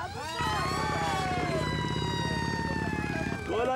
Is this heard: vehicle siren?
yes